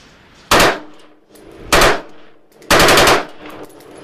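An AR-15 rifle fitted with a slide fire stock fires loud, close rapid bursts, three rattling volleys separated by short pauses.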